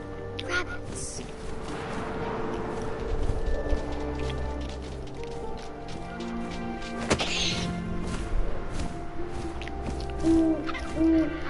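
Owl hooting in the video game What Remains of Edith Finch, a few soft hoots near the end over a steady bed of wind and ambient game sound, with a voice narrating.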